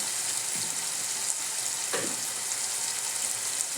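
Ingredients frying in a pan for a thick dal. A loud, even sizzle hisses throughout, with a couple of soft stirring scrapes and no voices.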